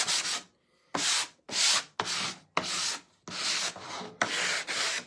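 A wooden farmhouse welcome sign is sanded by hand in seven or eight firm back-and-forth strokes, each a raspy scrub separated by short pauses, close up.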